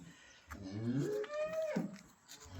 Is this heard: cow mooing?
yes